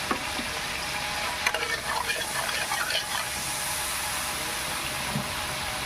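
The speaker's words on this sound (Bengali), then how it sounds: "তেলটা যেহেতু কমে গেছে আমি এখানে হালকা একটু তেল অ্যাড করছি" A little oil is added to a hot pan that just held fried prawns, and it sizzles in a steady, close hiss with a few stirring scrapes and no talking.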